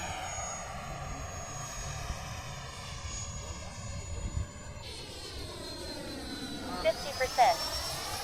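An RC model Tomcat jet flying at Fritz Field, a steady whining engine drone whose pitch sweeps as it passes, with a shift partway through, moderately distant and continuous, with a person talking over it.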